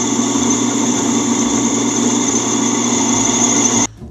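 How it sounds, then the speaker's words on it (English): An electric drill runs continuously at a steady high whine while boring a hole in the leg of a Blackstone griddle, close and loud for about four seconds before cutting off abruptly. "We're going to go drill a hole."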